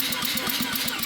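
A semi-peripheral port two-rotor rotary engine with one bad rotor idles close by, a rough, pulsing mechanical drone with an uneven, lumpy beat across a brief moment.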